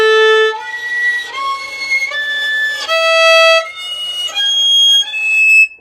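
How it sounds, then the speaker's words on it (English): Violin played with only light, harmonic finger pressure, giving thin, airy, fuzzy harmonic tones in a short run of sliding notes that rise and fall, played alone and close. "And the 5th exercise to release your violin death grip is just playing everything with harmonic pressure."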